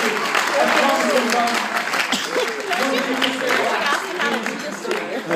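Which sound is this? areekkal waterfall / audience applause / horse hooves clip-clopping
audience applause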